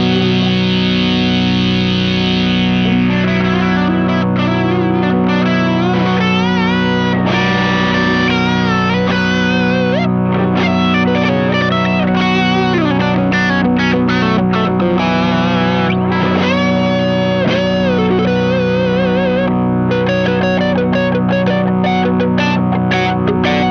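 A Boss SY-200 synthesizer plays sustained, distorted notes through an envelope filter, so each note swells and warbles in a thick, continuous tone that carries on for many seconds without talk.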